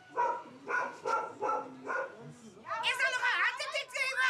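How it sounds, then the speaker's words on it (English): A dog barks repeatedly inside an elderly woman's house, five evenly spaced barks at moderate distance, followed by someone's voice talking loudly over the end. "Shut up the dog."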